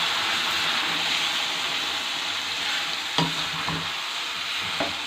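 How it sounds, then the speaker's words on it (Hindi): Tomato paste fries and hisses steadily in a kadai for chicken qorma, with a dense continuous sizzle and occasional soft scrapes of a spoon stirring near the end. No voices. "अब इसके अंदर हम जो टमाटर हमने रखे थे वो ऐड करेंगे और इसको अच्छी तरह भूनेंगे"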